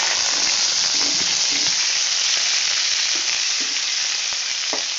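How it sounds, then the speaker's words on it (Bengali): Potato pieces frying in hot oil in a wok, a dense, continuous close sizzle with a few soft knocks of the spatula scattered through, no voices. "আমি কড়ার মধ্যে আবারও তেল দিয়ে দিলাম এবার কড়ার মধ্যে আগে আমি আলুগুলোকে দিয়ে দিলাম"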